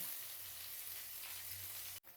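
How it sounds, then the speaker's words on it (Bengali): A soft, steady sizzle of bitter gourd frying in oil runs throughout, then cuts off abruptly near the end. "একটু কড়া করে আমি উচ্ছেগুলোকে লাল লাল করে ভেজে নেব"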